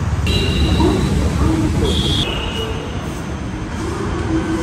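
A metro train at Hitech City metro station in Hyderabad, a loud steady rumble of the train with high-pitched wheel squeals and a brief electronic tone, with people talking faintly.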